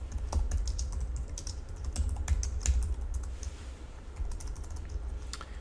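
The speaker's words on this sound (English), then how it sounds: "type it exactly the way that I type it" Close keys clatter on a computer keyboard in irregular bursts of typing, steady clicks with short pauses, no voices.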